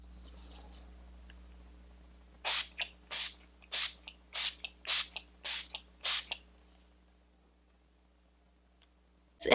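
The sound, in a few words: Milani 3-in-1 setting spray misting from bottle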